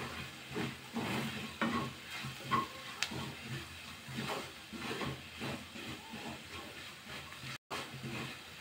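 Paneer gravy with turmeric and spices simmering in a pan over a low flame, a soft steady sizzle and hiss with faint stirring scrapes, close and quiet, with no one talking.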